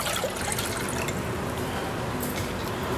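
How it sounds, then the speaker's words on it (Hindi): Water runs and splashes steadily into a saucepan on a stove, a continuous close liquid sound mixed with the hiss of heavy rain outside. "एक सॉस पैन मैंने चूल्हे पे रखा है, तो उसमें मैं पानी डाल दूँगी"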